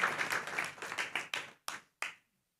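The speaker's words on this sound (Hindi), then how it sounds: "पहले ताली बजा लो यदि सर्दी दूर करनी है तो" Audience of schoolgirls at a talk clapping hands in a burst of applause, then a few separate loud claps trailing off into silence, heard close with no talk.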